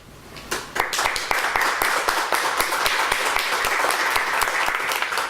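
An audience in a lecture hall bursts into applause, starting with a few claps then swelling into dense, loud, sustained clapping that gradually settles toward a shared rhythm.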